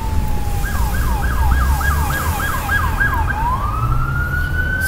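Police car siren passing on a street, its wailing sweep rising and falling repeatedly over steady traffic rumble before settling into a long rising tone as the car goes by.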